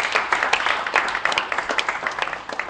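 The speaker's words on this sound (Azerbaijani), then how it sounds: "Alqışlarla yola salırıq Elvini." Audience applause rises to see off a departing contestant on a televised quiz show, a dense steady patter of many hands clapping at moderate distance and level, with no voices over it, fading slightly at the end.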